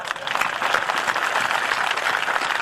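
Audience at a Hindi humorous poetry gathering (kavi sammelan) breaking into sustained applause, a dense, loud wash of many clapping hands continuing for several seconds.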